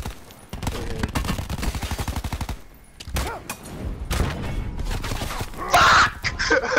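Rapid automatic gunfire in the video game Call of Duty Blackout, long bursts of close, loud shots in quick rhythm, pausing briefly and then resuming with more scattered shots and game effects.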